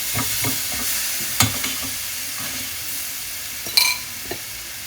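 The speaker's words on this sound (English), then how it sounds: "Let's saute it in this ghee." A sweet potato mixture sautés in a tablespoon of ghee in a pan, giving a steady soft sizzle with occasional stirring scrapes and light clinks of a spoon against metal.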